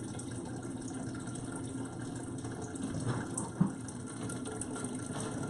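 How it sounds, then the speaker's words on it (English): Water pouring steadily into a fish tank, a continuous close gushing stream with a small bump of splashing near the end. "we're gonna fill up"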